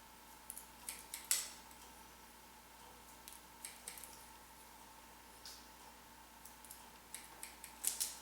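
Scissors snip hair during a short haircut, a few faint crisp snips scattered through the clip with a louder cluster near the start and end, against a quiet background hum.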